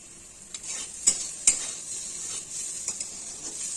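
Pumpkin, potato and bitter gourd fry in a pan with a soft steady sizzle, marked by a few sharp utensil clinks and stirring taps.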